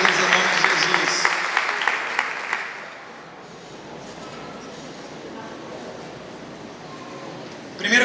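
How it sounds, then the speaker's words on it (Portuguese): Church congregation clapping during a worship service, loud at first and then fading after about three seconds into quieter room ambience, with a brief burst at the very end. "Vamos dar uma salva de palmas."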